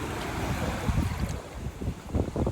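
Sea waves washing in, a continuous rushing surge with low rumbling pulses and some wind noise, close and steady, with no talking.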